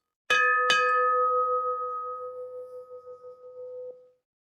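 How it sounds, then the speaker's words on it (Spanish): A ship's bell aboard the wooden 1950s Navy ship USS Lucid is struck twice in quick succession, then its clear metallic tone rings on steadily for a few seconds before being stopped. "por supuesto hay una campana, así que por supuesto debemos tocar esa campana"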